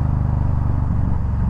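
A Yamaha V Star 1300 V-twin cruiser idles with a steady, loud, close low-pitched throb, its even firing pulses rising slightly as the throttle is blipped, with no talk.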